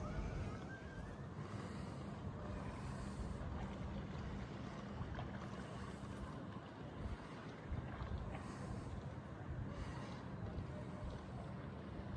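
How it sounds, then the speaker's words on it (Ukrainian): Steady rainy wind roars and buffets the microphone throughout, a constant low rumble with gusty swells. "Дує, Вітер такий дощовий."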